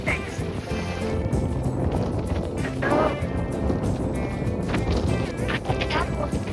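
Strong wind sweeps across a Goa beach, buffeting the microphone with continuous roaring gusts and a surf-like wash, while people talk nearby.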